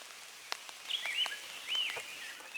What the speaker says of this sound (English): here comes the rain, a little heavier